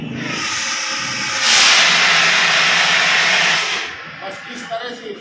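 A fire extinguisher discharges gas in a loud, steady hiss that swells louder midway and holds for a couple of seconds before cutting off, leaving faint background noise; a fire safety officer demonstrates it during a fire awareness session in Jhansi.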